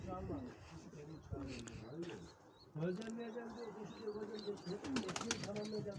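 Tumbler pigeons in a coop coo softly and repeatedly at close range, with rustling and faint chirps, while a person talks over them.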